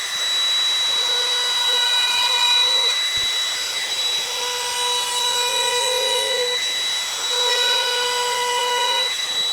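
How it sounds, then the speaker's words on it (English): A HiKOKI palm router plunging slowly at an angle into wood, giving a steady high-pitched whine with a sharp tonal hum that holds near and loud throughout, dipping briefly as the cut eases. "you'll have your router at an angle like this, and you just slowly want to plunge as you go along."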